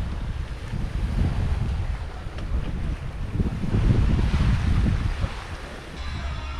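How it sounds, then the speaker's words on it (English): Wind rushes across the microphone with waves washing against the hull of a sailboat cruising at sea in about 12 to 13 knots of wind, a loud, continuous roar that swells and eases, with no voices. "About 12, 13 knots of wind. Cruising right along."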